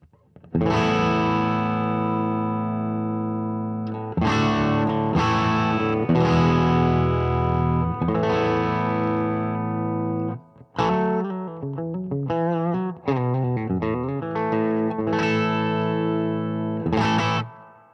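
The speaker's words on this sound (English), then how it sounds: "This is the bridge pickup in the clean channel of this Marshall DSL 100." A Fender American Elite Telecaster on its bridge pickup plays through the clean channel of a Marshall DSL 100, ringing sustained chords and then a quicker run of single notes, close and loud with slight natural breakup.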